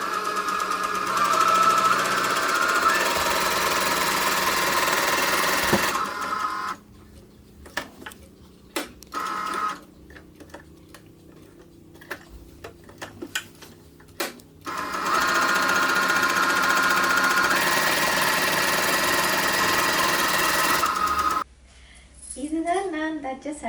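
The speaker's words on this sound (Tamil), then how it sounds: "இனி தைக்கப்புறேன்" A sewing machine stitches a blouse with lining fabric in loud, fast rhythmic bursts of mechanical whirring, broken by pauses with faint clicks and handling before stitching resumes.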